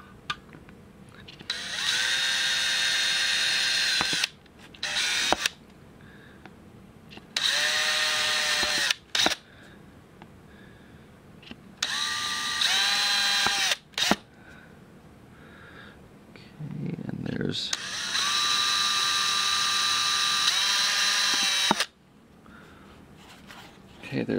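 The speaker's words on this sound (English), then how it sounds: "Okay, we'll drill those." A power drill bores holes into a plastic moth ball container, the whining bursts coming in about four separate runs of a few seconds each, close and loud, with a person talking between them.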